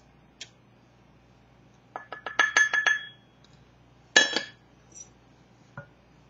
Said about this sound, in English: Sort of keep stirring it.